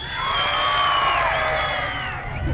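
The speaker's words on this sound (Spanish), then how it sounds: "Todo el mundo grita, sabe gritar" A crowd of children at an outdoor clown show in Coyoacán shouts together in a loud, sustained, high-pitched roar that swells and then eases slightly, with no talking over it.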